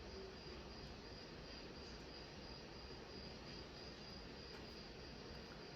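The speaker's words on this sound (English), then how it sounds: "Sounds like a cricket to me." Crickets chirp in a steady, faint, continuous drone from a nature-sounds recording played on an Alexa speaker, with no talking.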